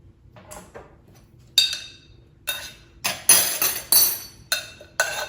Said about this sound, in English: So now I'm just gonna kind of stir this all around. Mix everything well.